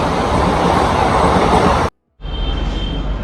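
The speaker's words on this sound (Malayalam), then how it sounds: "അപ്പുറത്തെ പ്ലാറ്റ്ഫോമിൽ ഒരു ട്രെയിൻ വന്നിട്ടുണ്ട്." A train rolls in at the opposite railway platform on a route between Nashik and Surat, with a loud, continuous rumbling roar, a brief dropout, then the rumble resuming.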